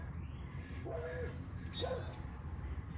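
Two short dog barks or yips, a little distant, over a low rumbling background.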